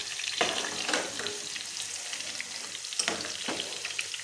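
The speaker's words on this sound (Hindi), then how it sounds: "अब इसको हल्का भून करना है।" Moong daal lightly frying in a pan, a soft steady sizzle with occasional scraping stirs, close and quiet with no talking.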